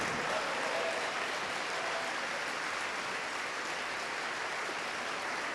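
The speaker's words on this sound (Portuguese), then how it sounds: "Vamos aplaudir ao nome do Senhor Jesus por cada vida que está vindo aqui para" A church congregation applauds in a sustained, dense roar of many hands clapping. It stays steady and fairly distant for several seconds, with faint voices mixed in underneath.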